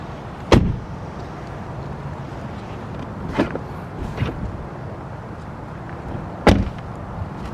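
Rear doors of a 2023/2024 Texas-built Tesla Model Y shut with solid thuds, one close and sharp, then fainter ones, and a final firm slam against a quiet outdoor hum.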